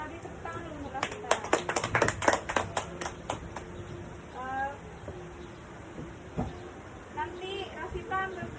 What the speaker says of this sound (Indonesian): Tepuk tangan dulu Rafita.